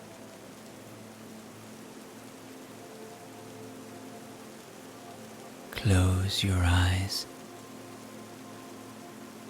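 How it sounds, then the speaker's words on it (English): Soft rain falling steadily as a gentle, even hiss close by, with a calm voice speaking briefly over it partway through. "watch as a soft rain begins to fall"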